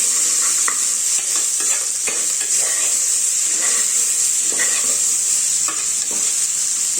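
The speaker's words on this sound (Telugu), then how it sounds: "మట్టికాయ ఆయిల్లో బాగా కలిసేటట్టు కలుపుకోవాలి." Vegetables stirred into hot oil in a pan give a steady, close sizzle with repeated scraping clicks from the stirring, and no voices.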